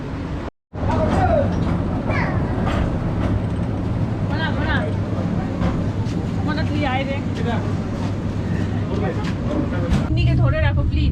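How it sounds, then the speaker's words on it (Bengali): A train runs on the Darjeeling hill railway, giving a steady, loud rumble and clatter for the whole stretch, with people talking over it and a brief dropout near the start. "আবার ট্রেন জার্নিটা শুরু হলো"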